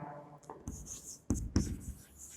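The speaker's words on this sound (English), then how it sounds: "let me rub the board first because this is not required" A classroom board is wiped clean with a few close, scratchy rubbing strokes and soft thuds, arriving in uneven bursts with short gaps between them.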